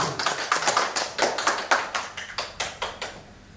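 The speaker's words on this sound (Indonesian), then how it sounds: "Mari kita aplaus dulu." Audience applause at a farewell ceremony for a retiring official, a crowd clapping in brisk, uneven bursts of overlapping claps that stay fairly close and steady, with no talking over it.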